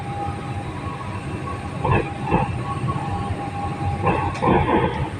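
A Bangkok Pink Line monorail train runs on the newly extended route toward Impact Muang Thong Thani, a steady rolling rumble with hiss and a few rhythmic clacks, heard from nearby.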